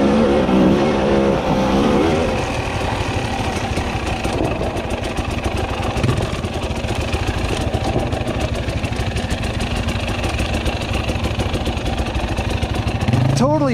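A 2021 Husqvarna TE300i two-stroke dirt bike engine revs and climbs steadily while trail riding, loud and close throughout, ending in a sharp rising rev, with a rider talking over it.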